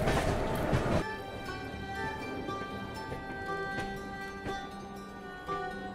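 Tirumala Express passenger train running on rails out of Visakhapatnam toward Samalkot, a steady rolling rumble with wheel and rail clatter and squeals, heard close from on board.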